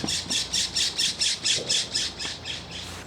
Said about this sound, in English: the birds are flying around